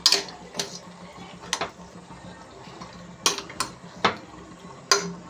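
Chicken being mixed in a metal pot, with sharp, irregular clanks and scrapes of a spoon against the pot in close, separate bursts over a quiet background, with no talking.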